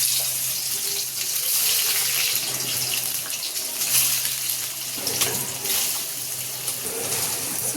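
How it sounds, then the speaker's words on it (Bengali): Boiled and drained soybeans fry in a pan, a continuous hissing sizzle that sounds almost like running water, with a low steady hum beneath and small clinks. "এই জন্য আগে সয়াবিনগুলো ভেজে নেব।"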